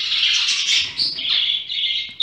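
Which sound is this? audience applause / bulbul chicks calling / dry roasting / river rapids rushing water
bulbul chicks calling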